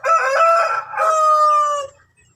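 A Shamo rooster in a breeding pen crows once, close and loud, a long two-part call with a brief dip in the middle before it trails off into quiet.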